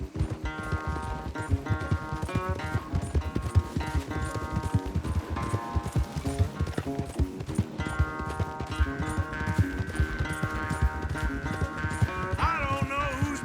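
Galloping horses racing in Red Dead Redemption 2 produce rapid, rhythmic hoof clip-clops with an occasional whinny, loud and close over game music.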